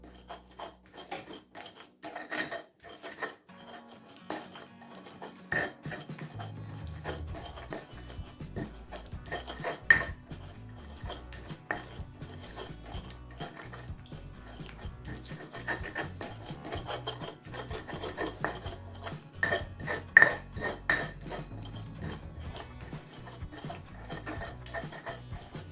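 Spices for Indonesian empal daging are ground by hand, giving a steady close rasping and scraping rhythm with light clinks against the vessel for the whole stretch, no talking.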